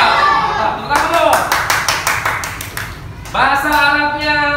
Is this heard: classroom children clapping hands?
yes